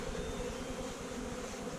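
Honey bees drone steadily at a hive entrance, a close, continuous buzzing hum with no pauses or talking.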